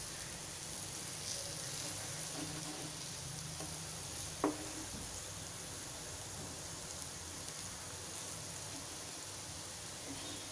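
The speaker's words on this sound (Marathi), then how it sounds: "आता इकडून पण आपल्याला एक मिनिट परतून घ्यायचे आहे" Slices of suran (elephant foot yam) being shallow-fried and turned in a pan over medium heat, giving a soft continuous sizzle with an occasional scrape or tap of a spatula.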